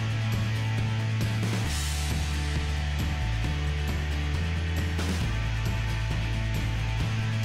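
Lego Technic rollercoaster launcher driven by two XL motors, a loud, steady mechanical whir whose pitch shifts in a few distinct steps as the motors load and change speed, with no voices.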